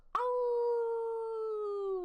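A person imitates a wolf howl, a single long, steady, close-up tone that holds for nearly two seconds before sliding down at the end.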